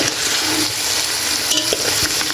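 Vegetables for Bessarabian cabbage soup stew in pork lard as they are stirred, a continuous close sizzle and hiss with faint scraping.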